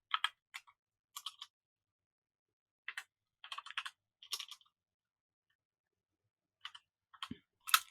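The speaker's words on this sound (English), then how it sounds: "Typing blind, can't see my keyboard while I do this." Quiet keyboard typing in short irregular bursts of clicking keys with pauses between, ending on one louder clack.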